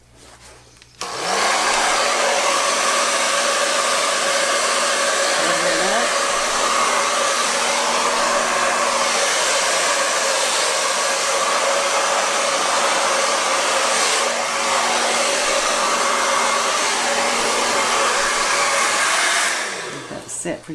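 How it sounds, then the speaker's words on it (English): A hair dryer switches on and blows steadily at close range for nearly twenty seconds, a loud continuous whoosh with a constant motor hum, then cuts off. "Take the old trusty hair dryer."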